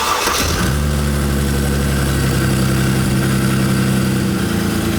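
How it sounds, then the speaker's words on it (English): A Mercedes C350 with a bad pulley starts with a short cranking burst, then settles into a steady, loud, close idle that holds with a constant hum. "We're gonna let it get off idle and then we're gonna give it a couple of revs."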